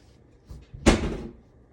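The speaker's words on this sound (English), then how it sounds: "my cat is playing with the cabinet door" A cabinet door knocks and bangs as a cat plays with it, one loud clattering thump after a couple of soft taps, indoors with no talking.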